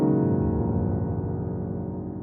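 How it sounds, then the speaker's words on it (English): Piano glissando on a worship-style keyboard, a sustained wash of many notes sliding together, loud and ringing alone with a slowly decaying tail. "a glissando sounds something like this"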